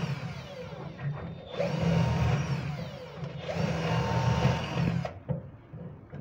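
A power drill whirs in two bursts of a few seconds each while a cylinder lock is installed in a drawer, nearby and moderately loud, with softer handling noises between and after.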